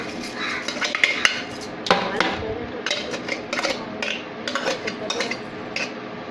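A spoon scraping and clinking against a metal vessel while stirring tempering into cabbage chutney, an uneven series of close, sharp metallic knocks and rattles.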